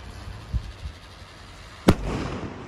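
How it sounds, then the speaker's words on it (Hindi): A Crackling Delight firework shell bursts during Diwali celebrations in India: one sharp, loud bang followed by a lingering crackly fizz, with a couple of faint pops earlier. "अब फोड़ते हैं भाई ये क्रैकलिंग डिलाइट"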